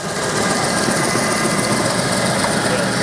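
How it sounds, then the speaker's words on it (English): A Snowie 2015 block ice shaver motor runs at full speed, a steady, loud, high-pitched mechanical whir with a constant buzzing drone that holds unchanged throughout, up close and with no pauses. "Yes, this is full blast. And you notice I'm not stopping the motor."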